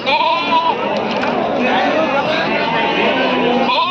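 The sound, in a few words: sheep and lambs bleating at Mudhol sheep market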